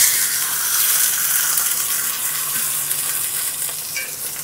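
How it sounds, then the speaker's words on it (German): Steady, loud sizzling of a ribeye steak searing in a hot pan, a continuous hiss and crackle with no talking. "Und dann braten wir das Ribeye jetzt von beiden Seiten scharf an."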